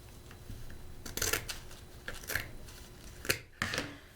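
Scissors snipping through folded material for a spring storm door wreath, a handful of quiet, close crisp cuts spread unevenly with soft rustling between.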